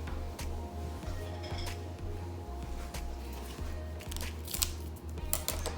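Repeated crisp snips of scissors cutting at a steady rhythm, close by, over a low constant hum with a few clicks near the end.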